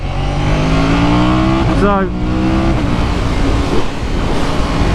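A Ducati Panigale V4S ridden on a wet track during practice, its engine droning loud and steady with a quick rise and fall in revs mid-way, and someone talking over it.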